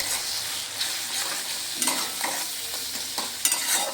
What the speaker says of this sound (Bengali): এবার ভালো করে নেড়ে চেড়ে কষিয়ে নেব যাতে আদা জিরের গন্ধ না থাকে